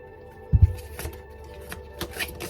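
A deck of tarot cards is shuffled up close: a quick riffle of crisp flutters and soft slaps opens with a firmer burst, then lighter papery shuffling follows, with no voices.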